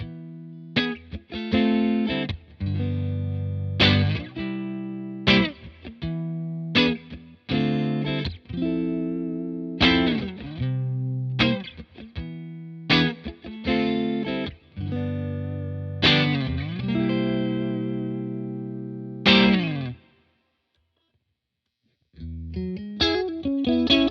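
A Fender Stratocaster played through a Bad Cat Black Cat 30 amp on channel 1, with treble rolled back and extra bass, rings out in loud, harmonically rich chords and phrases with choppy stops, a brief silence, then playing resumes.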